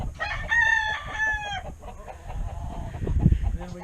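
A homestead rooster crows loudly and near, with a clear, drawn-out call, while hens cluck around a coop where one sits on eggs. Scattered clucks and rustling follow the crow.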